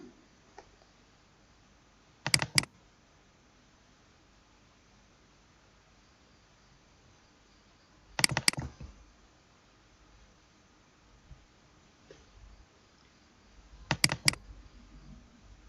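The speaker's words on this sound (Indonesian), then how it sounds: "kita coba klik saja linknya." Three short bursts of clicking at a computer mouse and keyboard, spaced several seconds apart, fairly quiet against a soft background hiss, with no talk.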